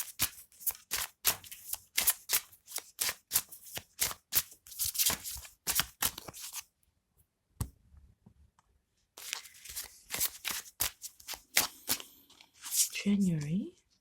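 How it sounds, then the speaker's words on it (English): A deck of tarot cards shuffled by hand in quick, crisp bursts of riffling and tapping close to the listener. There is a short lull partway through, and a voice is heard briefly near the end. "bear with me while I shuffle the cards"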